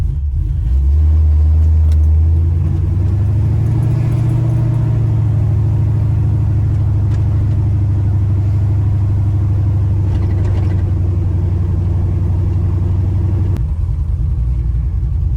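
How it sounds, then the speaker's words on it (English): A car engine with a newly installed FTI stall converter idles with a deep, steady rumble and slight shake, close and loud, holding a constant low drone before cutting off near the end. "It's idling. It even sounds a little different"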